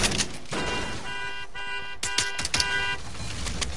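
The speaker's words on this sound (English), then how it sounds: "Oh, he's shooting?" Fortnite video game gunfire: sharp bursts of rapid shots mixed with game tones and effects, loud and busy throughout.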